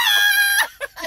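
A person imitates a chicken, giving a long drawn-out squawk followed by two short clucks, close and fairly loud.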